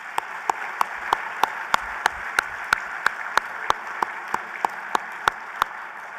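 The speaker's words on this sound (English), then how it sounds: "Let's give them a big round of applause." An audience applauds the public servants of the City of West Palm Beach at a State of the City address, a steady broadband wash of clapping with regularly spaced sharp transient peaks running through the whole stretch.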